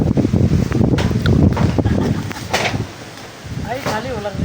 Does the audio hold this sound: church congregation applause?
no